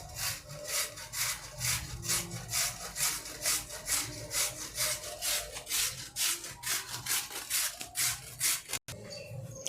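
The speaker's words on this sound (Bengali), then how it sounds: "এবারে আমরা আলুগুলোকে ছিলে নেব।" Potatoes being peeled with a hand peeler give a steady, rhythmic scraping of rapid, even strokes that runs nearly the whole time, close and fairly loud, with no talking.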